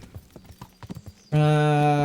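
Horse hooves clip-clopping at a steady walking rhythm while riding in the video game Kingdom Come Deliverance, close and moderately loud, before a sustained loud tonal music sting takes over.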